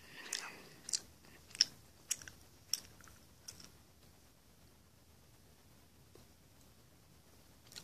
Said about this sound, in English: I've got gum in my mouth.